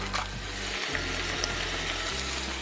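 Whole spices, among them a cinnamon stick, go into a hot pan and give a soft, steady sizzle with faint crackles over a low background hum, quiet and continuous for a couple of seconds.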